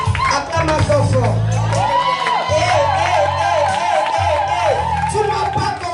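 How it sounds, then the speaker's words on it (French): A church conference congregation cheers loudly in praise. Raised voices, whoops and scattered clapping blend into a constant, close crowd din that holds steady from start to finish. "Acclamation fort."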